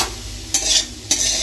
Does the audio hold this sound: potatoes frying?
yes